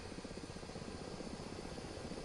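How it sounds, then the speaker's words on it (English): Helicopter in a video game circling tightly around a bridge, its steady rotor and engine roar filling the scene at constant loudness with no talk over it. "it's like the helicopter's on a string, just flipping around in a circle around this bridge"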